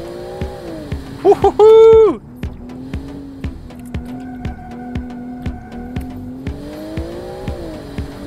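A big executive car's engine revs hard while driven aggressively, its pitch climbing and falling through the gears over steady road hum, with a brief high squeal and a person's excited shout partway through.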